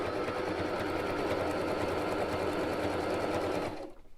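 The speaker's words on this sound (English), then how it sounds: "I'm a lot more confident with the sewing machine sewing paper" A sewing machine stitching through paper book pages at a craft table, running steadily and loud for about four seconds before stopping abruptly.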